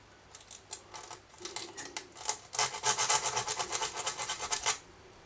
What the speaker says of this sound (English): we're going to get our sandpaper, because we've got a bit of resistance on there